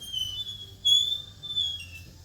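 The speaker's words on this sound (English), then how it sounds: "This is the squeak that I want to get rid of." Front brakes on a 1991 Honda squeak in a thin, high, sustained squeal that wavers and swells over a couple of seconds, close and clear against a quiet low rumble.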